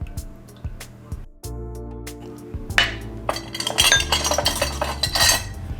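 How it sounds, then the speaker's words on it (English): A spoon clinks against a glass or bowl as milk mixed with white vinegar is stirred, first with a few separate metallic taps and then with quicker, louder rattling strokes toward the end. "Give that a little stir."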